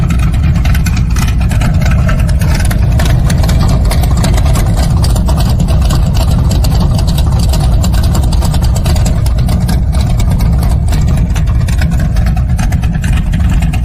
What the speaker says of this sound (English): that's your sound with the exhaust cutouts